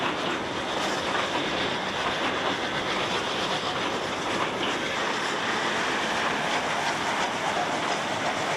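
A steam locomotive train runs on the Lima–Huancayo railway in Peru, heard as a steady, broad roar of moving rail cars with a faint clickety-clack throughout and no voices.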